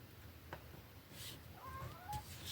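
A house cat gives a couple of faint, thin meows over a soft indoor background, close but quiet.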